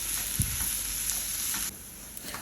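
Onions sautéing in hot coconut oil for a village-style Chettinad chicken curry, a steady close sizzle with soft scrapes of stirring, dropping slightly quieter near the end.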